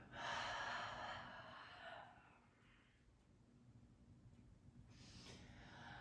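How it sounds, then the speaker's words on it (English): Deep, slow breaths during a beginner morning yoga session, soft and close, with a long airy exhale at the start and another fainter breath near the end over quiet room hiss. "One more round of breath here. Make the breaths really deep."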